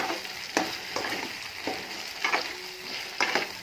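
Brinjal frying in hot oil, a steady soft sizzle broken by several sharp stirring scrapes at irregular intervals, fairly close and quiet.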